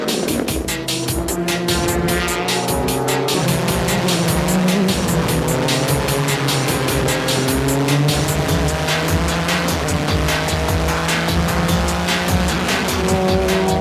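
Nissan Z and Toyota Supra race cars in a JGTC race, heard as a loud, continuous high-revving engine drone with shifting pitch and squealing tyres, close and dominant throughout.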